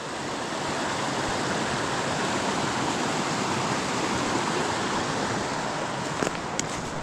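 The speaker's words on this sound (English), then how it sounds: "Looks like it'd be a good trout stream. Water's moving fast." A fast-moving, cold mountain creek with small rapids along the Appalachian Trail rushes in a steady, loud, broadband roar, close by and continuous, with no voices.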